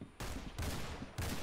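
Automatic gunfire in the Roblox game Arsenal, heard as short, quiet bursts of rapid shots split by brief pauses, with no voices.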